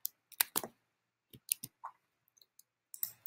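Computer keyboard typing while entering text in a design app: a few short bursts of crisp clicks with pauses between, close and fairly quiet, no talking.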